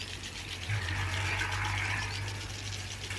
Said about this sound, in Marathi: स्प्रिंकलर याचं नाव आहे असं